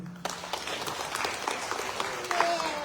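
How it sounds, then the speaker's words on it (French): Audience applause fills a conference-debate hall, steady dense clapping from a crowd heard at moderate distance, with a brief voice at the start and end. "Vous avez un modèle que vous pouvez bien applaudir."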